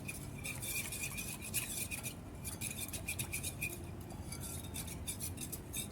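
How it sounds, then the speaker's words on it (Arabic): A metal spoon stirs sugar and Nescafé, clinking quickly and repeatedly against the container over a soft scraping bed, close and fairly quiet, with no voices. "نقلب الاول"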